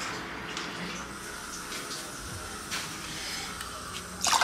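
Water runs faintly through the pipe of a home hydroponic system, a soft continuous hiss and trickle with a few small knocks and a brief louder splash near the end.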